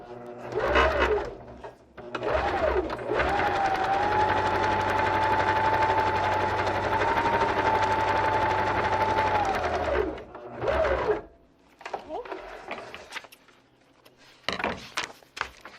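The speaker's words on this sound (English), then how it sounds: "And I'm going to sew." A sewing machine stitching a paper-pieced quilt block runs in one steady, loud burst of about seven seconds. Brief handling noises come before it, and shuffling paper and fabric follow it.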